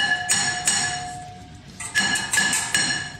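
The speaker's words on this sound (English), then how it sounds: "you can just smack it with a hammer" A hammer strikes a Mazda RX-8 brake rotor in several sharp metallic hits, a few spaced blows followed by a quicker cluster of clanging strikes, each leaving a bright ringing tone.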